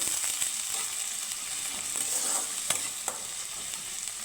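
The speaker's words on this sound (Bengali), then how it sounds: "একটু ভেজে নেব পেঁয়াজটা হালকা লাল করে ভেজে নেব" Chopped onion and green chilli fry in a pan of oil, a continuous soft sizzle with occasional clicks and scrapes of stirring, close and fairly quiet with no talking.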